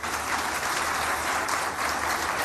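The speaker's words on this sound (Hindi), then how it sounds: "ताली तो बनती है।" Studio audience applause on a televised iftar show, a dense steady wash of many hands clapping throughout, moderately loud and uninterrupted by speech.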